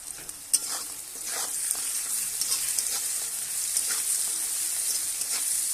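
Lentil dumplings (bori) frying in hot oil with dry red chilies, turmeric, salt and bay leaves, a steady close sizzle with soft scraping stirs throughout.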